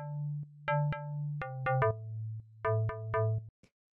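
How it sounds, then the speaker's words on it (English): A second synth bass layer for futuristic chill house, pitched in the low mid-range: a sustained low tone under a run of about eight bright, harmonic-rich note stabs in a syncopated pattern, with no voice, ending abruptly. "So then the next layer of bass sounds like this."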